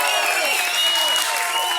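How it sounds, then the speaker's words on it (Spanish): Audience applause and cheering for a female guest at a live comedy show, a dense burst of clapping and crowd noise, loud and close, with tonal whistling or shouting layered on top. "Un aplauso para nuestra invitada ya."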